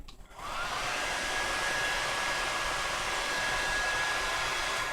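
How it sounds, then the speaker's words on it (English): A blow dryer switches on and runs at a loud, steady whoosh with a faint high whine, drying glued weave tracks on a head of synthetic or human hair. No one speaks over it. "Let's get the blow dryer."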